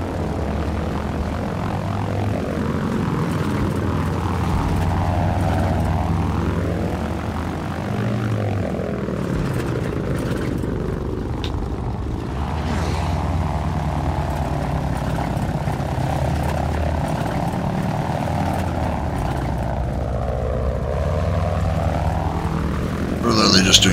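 Propeller airplane engine in the Battlefield video game, a steady loud droning hum that rises and falls in pitch as the plane banks and circles, with occasional game sounds and talk underneath.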